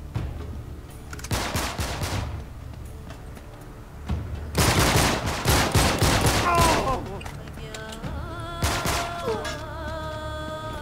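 Gunfire from the video game Uncharted 3 comes as several bursts of rapid automatic shots separated by short pauses, loud and sharp, with a voice speaking briefly between volleys.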